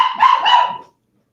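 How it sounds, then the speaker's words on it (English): A herd dog gives a single loud, close bark that breaks into two quick pulses, then cuts off into silence. "it's a herd dog. It's a herd."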